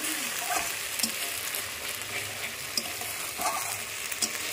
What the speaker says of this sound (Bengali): ও বাইরে বসে ঘুগনি রান্না হচ্ছে